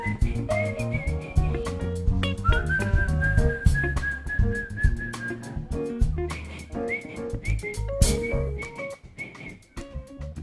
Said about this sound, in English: and I'm just whistling